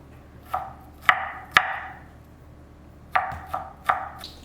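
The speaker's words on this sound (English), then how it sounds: "so now I'm going to chop them small." A knife chopping six garlic cloves small on a board, sharp distinct thuds coming in two loose clusters with short pauses between, close and clear with no talk.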